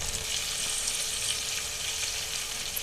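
Sliced onions, green chillies and mint leaves frying in hot oil in a pan, a dense, even sizzle that holds steady throughout with no talking.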